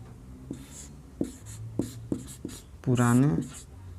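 A teacher writing on a board during a history class, a series of short scratchy strokes at uneven intervals, followed by a brief burst of speech.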